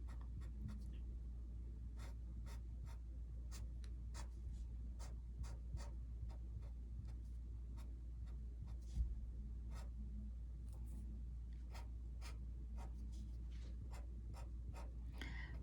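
A pencil or pen drawing a basket-weave pattern on paper for a Romero Britto-style self portrait: soft, close, repeated short scratchy strokes in a steady rhythm over a constant low hum.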